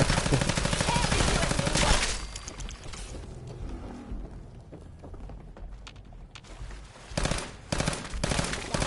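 Heavy automatic gunfire from a Fallout 4 firefight, loud rapid bursts at the start, then a lull of scattered shots, and more dense bursts returning near the end.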